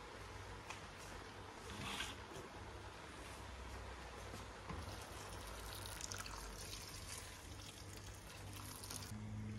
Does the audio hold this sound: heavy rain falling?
no